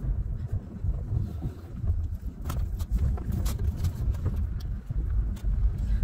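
A car creeps along at about five miles an hour over a rough, bumpy dirt road, with a low rumbling engine and uneven thumps and knocks from the suspension, steady and close, with no voices.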